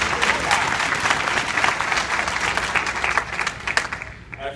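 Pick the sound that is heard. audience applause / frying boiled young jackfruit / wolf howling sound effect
audience applause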